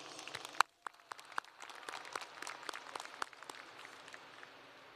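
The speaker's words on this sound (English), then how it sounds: "Let's give a round of applause for those receiving scholarships." Scattered, fairly distant applause rises from a high school graduation crowd honouring scholarship recipients, with sharp individual claps popping out over a soft, thin wash.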